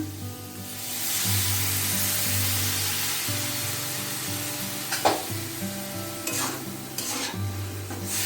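A small splash of water hits frying bitter gourd, and the sizzle swells into a loud steady hiss, with spatula scrapes and clatter coming through later.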